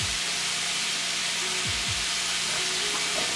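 Steady sizzling and hissing of chicken spring roll filling frying in a hot pan, with a few faint scraping stirs partway through; no voices.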